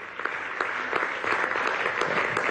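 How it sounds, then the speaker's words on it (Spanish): At a Venezuelan government ceremony marking the end of illiteracy, an audience applauds the head of Cuba's educational mission with a dense, lively burst of clapping, many distinct hand claps close together, holding steady for a couple of seconds without talk. "Un aplauso, querida camarada"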